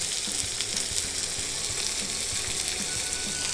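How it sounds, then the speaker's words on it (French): Salmon fillets fry in a pan with a steady, close sizzle and faint spitting crackles, with no talking over it. "Pendant que la cuisson de nos saumons, pavés de saumon sont en train de se faire"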